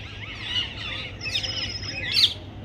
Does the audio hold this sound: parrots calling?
yes